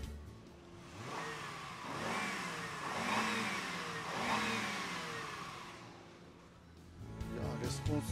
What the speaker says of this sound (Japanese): ではエンジン吹かします。